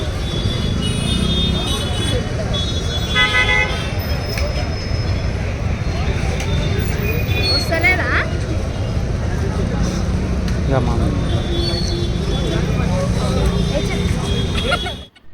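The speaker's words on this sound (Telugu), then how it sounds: "అక్కడ ఒక ఆటో ఎటు అటు పోకోకుండా ఇరుక్కుపోయింది ట్రాఫిక్ చూస్తున్నారు ఫ్రెండ్స్" A congested road jam with an auto rickshaw stuck in the traffic, giving a loud, steady roar of engines and road noise, crowd babble and occasional short horn toots, all continuous at close range.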